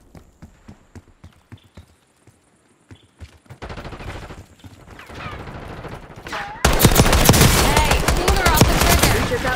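Gunfire in Call of Duty Black Ops 6 multiplayer on Nuketown, starting as sparse distant single shots, then building into dense, loud, close automatic fire with overlapping bursts and a radio voice speaking.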